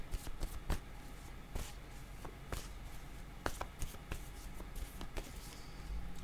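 Tarot cards shuffled and drawn by hand, a run of crisp riffles, flicks and taps at an irregular pace, close and fairly quiet, with no talking.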